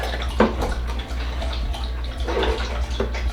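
Water splashes steadily into a half-cup measuring cup, refilled for two cups while mixing a homemade Castile soap solution; a close, continuous pour with small bursts of splashing.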